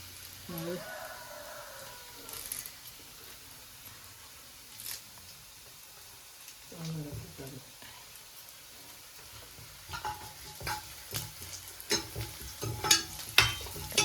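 Curry leaves dropped into frying onions and stirred for a Kerala palkappa dish, giving soft sizzling with spoon scrapes that grow busier and louder toward the end, a few faint voice-like sounds early on.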